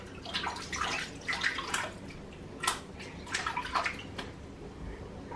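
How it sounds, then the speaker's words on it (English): Water splashing and sloshing in a kitchen, in bursts of wet splashes and drips, fairly close, with no talking. "Splashing, but you're doing splash bash, making a mess in your kitchen."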